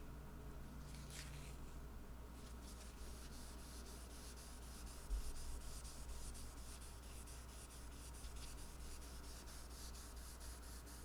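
Steady, soft hand rubbing of fine 1200-grit sandpaper on a finished surface, continuous and close, with no talking.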